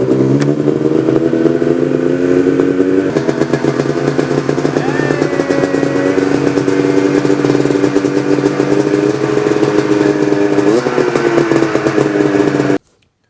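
A modified Ski-Doo 700 snowmobile engine with a Digatron installed revs steadily and loudly up close for about thirteen seconds. Its droning, clattering note rises and dips through several throttle changes, then cuts off abruptly at the end.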